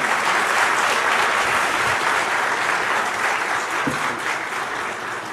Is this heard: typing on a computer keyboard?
no